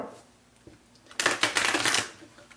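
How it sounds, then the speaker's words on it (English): A tarot card deck being shuffled by hand: quiet handling at first, then a loud riffling burst of rapid, papery flutters lasting under a second, close by, with no talking over it. "I'm going to continue shuffling the deck here"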